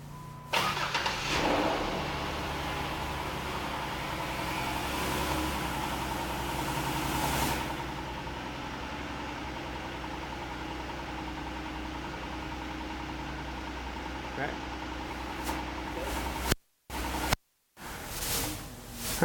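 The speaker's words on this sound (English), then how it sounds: "we'll go ahead and start the vehicle up, apply the brakes a couple times" 2007 Jeep Wrangler JK engine cranking and firing up, then settling into a steady rumbling idle, fairly close, with a couple of brief dropouts near the end.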